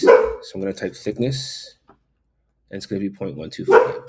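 Household dogs let out a couple of short barks in the background while someone talks steadily over them.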